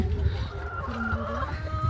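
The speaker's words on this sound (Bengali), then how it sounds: "এই যে ছোটো ছোটো মুরগি এগুলা নাবিলার পছন্দের মুরগি" Small backyard chickens clucking in a coop shed kept through a snowy American winter, steady overlapping calls at close range over a low hum of the enclosure.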